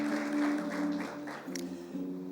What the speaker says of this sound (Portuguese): Uma salva de palmas bem calorosas para os nossos visitantes